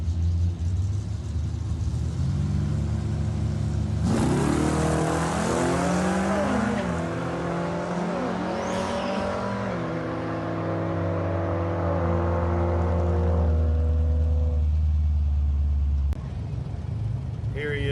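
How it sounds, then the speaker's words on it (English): A BMW and a Mustang Foxbody launch in a drag race, engines roaring and revving hard through rising gear sweeps. The cars are loud and fairly close, and the roar fades toward the end under steady track ambience. "This is a BMW versus Mustang Foxbody."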